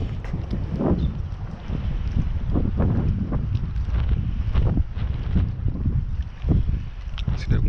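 Wind buffets the microphone on a fishing dock, a continuous low rumble with gusting surges; someone talks intermittently over it.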